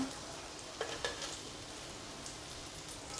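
Surmai (kingfish) pieces frying in oil in a pan, a steady soft sizzle with a few brief crackles and pops near the start, fairly faint and continuous with no talking.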